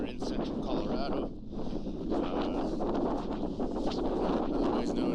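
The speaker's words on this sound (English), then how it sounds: "It's just it's always windy here" Strong wind buffeting the microphone in a continuous roar beside a tailwater river in central Colorado, with gusts rising and easing, loud and close throughout.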